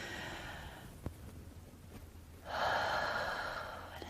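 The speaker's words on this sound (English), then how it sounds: "Deep breath in." Deep breathing in and out during a toddler butterfly-breathing exercise: a soft, quiet breath with a short sharp puff near one second, then a longer, louder airy exhale from about two and a half seconds.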